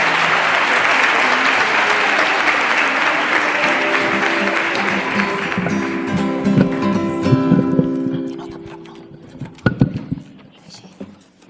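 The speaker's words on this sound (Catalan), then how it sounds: "Un aplaudiment ara" A school audience at a music tribute applauds loudly and steadily, and the clapping fades into instrumental music and scattered noise toward the end.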